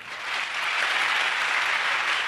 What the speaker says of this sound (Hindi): गुरुजी ताली बजाइए।